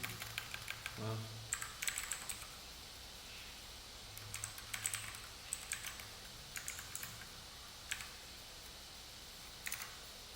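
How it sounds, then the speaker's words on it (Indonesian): Quiet keystrokes tapping on a computer keyboard in short irregular bursts, close and faint against a low background hum. "Ini ketik tahun terbit."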